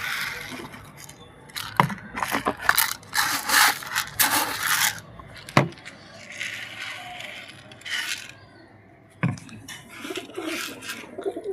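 Wheat grain pours and rattles in scraping bursts close by while pigeons coo softly nearby and a voice calls out now and then.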